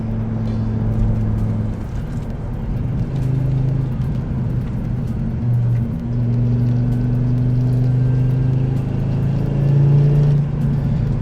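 Dodge Ram SRT-10 pickup with its V10 engine running loud and close, a deep steady drone with rising revs and shifting pitch, heard alone without talk.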